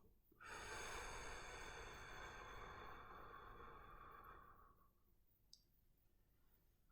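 A long, slow, steady exhale during a guided sophrology relaxation breathing exercise, heard very close as one soft airy breath lasting several seconds and gradually fading into quiet.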